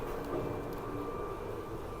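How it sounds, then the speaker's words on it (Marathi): Steady low rumble and rattling hum of a moving train heard from inside a carriage on the way to Jungfraujoch, Switzerland, continuous and even throughout with no voices. "ट्रेनमध्ये तर आपण चढलो आहोत"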